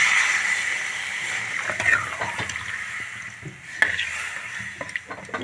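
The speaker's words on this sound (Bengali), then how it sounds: "এখন আমি জল অ্যাড করে দেবো" Water poured into a pan of potatoes browned with spices for a paneer curry, splashing and bubbling hiss with scattered clinks and stirring sounds, close and moderately loud.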